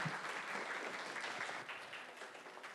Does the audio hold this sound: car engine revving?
no